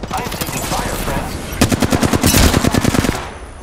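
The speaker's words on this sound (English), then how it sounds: "I am taking fire, friend." Rapid bursts of automatic gunfire in the battle royale shooter Apex Legends, loud and close, a short volley followed by a denser rattling stream that cuts off near the end.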